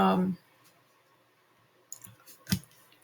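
A keyboard being typed on gives a few scattered, quiet clicks close by, coming after a brief stretch of speech at the start.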